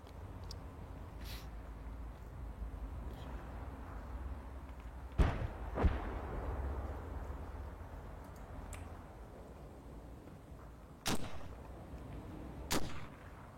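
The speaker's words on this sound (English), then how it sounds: "Let's try it with the mortars first before risking the Sherman." Mortar rounds thump in a WWII strategy video game, a few heavy booming impacts scattered over a steady low ambient rumble, with two pairs of louder blasts standing out.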